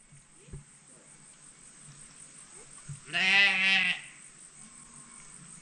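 One clear, drawn-out sheep bleat about a second long, heard at moderate distance against a quiet backdrop of chirping insects in rural Senegal.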